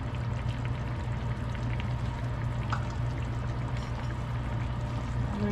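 Water is poured from a small container into cornstarch to make a thickener for Filipino beef pares. A steady, close pour runs the whole time over a low kitchen hum.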